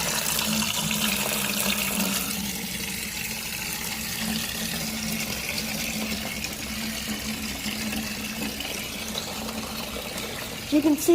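Water is drawn out of a 65-gallon JBJ reef aquarium, a steady running, gurgling wash heard close, with someone talking over part of it and a few louder splashes at the end.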